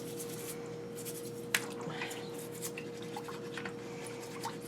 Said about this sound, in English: That's why I have the water running.